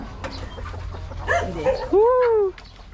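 Laying hens on a farm cluck softly amid outdoor murmur, ending in one loud, drawn-out rising squawk nearby, with people talking in the background.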